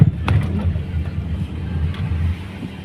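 A Toyota car with a manual transmission climbing the winding Bitukang Manok road in Quezon Province, a steady, fairly loud low engine drone with road rumble inside the cabin, without talk.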